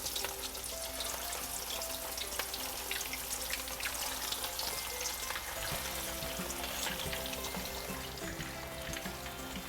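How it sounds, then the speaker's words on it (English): Meatballs fry in hot oil in a pan, giving a steady close sizzle with scattered pops and crackles and no talk over it. "Our meatball has been cooking for about 2 to 3 minutes on one side."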